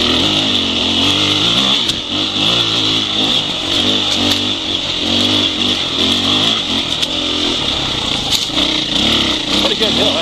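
A Husqvarna 701 Enduro motorcycle climbing a hill in first gear, its single-cylinder engine droning steadily and loud with rhythmic throttle pulses, close by, with a rider talking over it.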